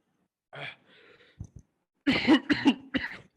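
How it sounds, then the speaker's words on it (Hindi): A few sharp coughs from one person, close by, the last burst coming in a quick cluster of three or four. "सॉरी मेरी खांसी थोड़ी बर्दाश्त करें"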